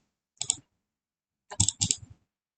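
Computer keyboard keys click in two bursts, a single sharp tap followed by a quick cluster of three or four close, crisp clicks, with silence around them.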